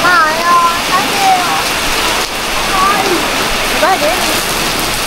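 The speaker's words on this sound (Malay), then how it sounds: "Hujan lebat di tengah malam." Heavy rain falls at night during a ride on an old, expensive scooter through Kota Bharu, a steady dense hiss of downpour with some bird-like chirps and faint voices underneath.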